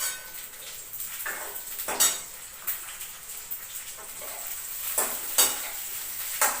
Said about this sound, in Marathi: तेलात जरा भाजून घेतली